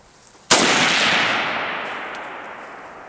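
A single sharp, loud AK-47 rifle shot fired outdoors, a sudden crack followed by a long, slowly fading echo tail, with no talk.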